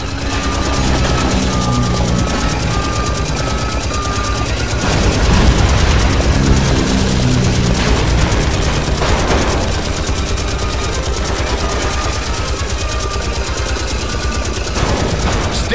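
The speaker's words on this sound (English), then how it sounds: "Listen! I hear airplanes!" Airplanes drone overhead while bursts of machine-gun fire rattle in a World War II action video game, a loud, dense and continuous mix of engine roar and gunfire.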